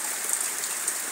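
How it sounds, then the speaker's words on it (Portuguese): Heavy rain falls steadily in Ceará, Brazil, a dense, even hiss of drops striking surfaces close by, with scattered louder splatters and no voices. "Sábado de aleluia aí, tá passando com chuva."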